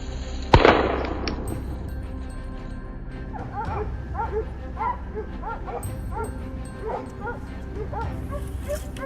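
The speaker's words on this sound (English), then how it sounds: "the barking of hunting dogs signaled the presence of a wild boar" Several hunting dogs barking and yipping repeatedly in the distance among reeds, signaling a wild boar, over steady background noise, with a sharp bang near the start.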